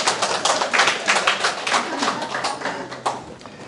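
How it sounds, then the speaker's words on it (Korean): A workshop audience in Ulsan claps together, a dense run of quick hand claps filling the room for a few seconds before thinning out toward the end. "그럼 박수 한번 치고 또 넘어가요."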